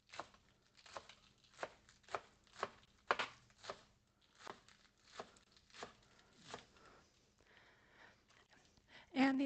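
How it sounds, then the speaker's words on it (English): Green onions are chopped on a cutting board in a quick series of about a dozen sharp, evenly spaced knife thuds, close and fairly quiet. "We'll chop up some more and put them in."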